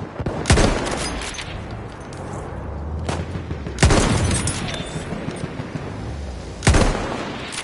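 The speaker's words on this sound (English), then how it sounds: "Enemy machine gun." Enemy machine gun fire in the battlefield of Battlefield 1, with three loud, close bursts a few seconds apart, each a sharp crack followed by a decaying rumble over steady background battle noise.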